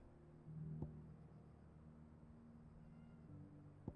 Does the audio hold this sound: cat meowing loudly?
yes